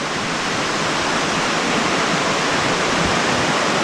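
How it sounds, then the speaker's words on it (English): A river flowing near the Iao Needle on Maui, Hawaii, heard as a loud, steady rush of water that holds constant throughout, with no voices. "there's the river."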